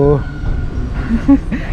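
Steady low rumble of riding inside a moving train carriage in Canada, with a person talking close by over the noise.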